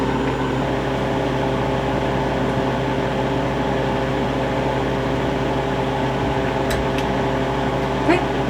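A freeze dryer runs while cooling, giving a steady, loud mechanical hum with a droning compressor tone that does not change, close by, with a person talking over it.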